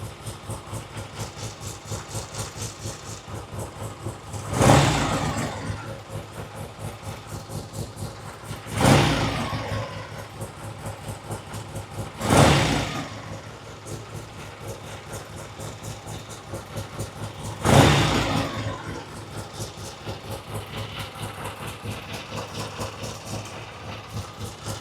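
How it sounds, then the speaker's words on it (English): A 1967 Triumph TR6 engine with monoblock carburetors idling steadily just after its first start, a close, even rumble with four brief surges where the revs rise and fall back. "That's a great idle."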